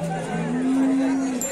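A pair of Khillar bulls at a busy cattle market, with a sustained low moo rising over crowd murmur and chatter nearby.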